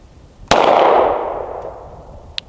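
A single sharp report from a CZ P-07 pistol with a ringing metallic clang of the round striking a steel target, decaying over about a second, followed by a faint distant tick.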